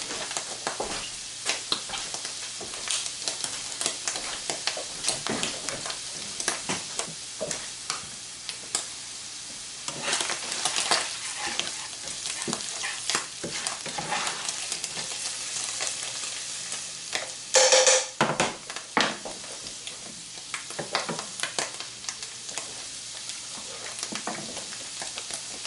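Eggs frying in a small pan for loco moco, a steady close sizzle with crackles and scattered utensil scrapes and stirring taps throughout, one brief louder burst near the end.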